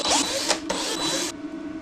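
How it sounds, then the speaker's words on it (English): A power driver spins out screws from the front plate of a Jakiper battery in two close, steady whirring bursts with a brief pause between them, then quiet handling afterward. "And now we can take out the additional screws around the front plate."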